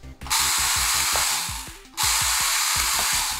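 A Marushin Magnum Shooter toy BB gun, driven by a Mini 4WD motor, fires semi-auto. Its motor whirs loudly in two bursts, a harsh drill-like grinding with rapid mechanical clicking, close up, separated by a brief pause.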